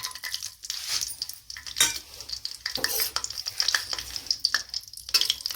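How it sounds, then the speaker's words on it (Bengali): Cashews being fried in a pan while cooking chicken korma: a soft, steady sizzle under repeated scraping, stirring and light metallic clinks of a utensil against the pan, close by, with no talking. "এবার এই কাজুগুলোকেও আমরা ভেজে নেব।"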